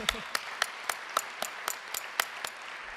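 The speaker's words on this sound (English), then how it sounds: "That's right, you can clap." Faint, evenly spaced claps, about ten in three seconds, rise during a ministry report talk about raising children, with soft background hum between them.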